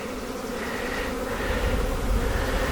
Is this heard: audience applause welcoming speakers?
no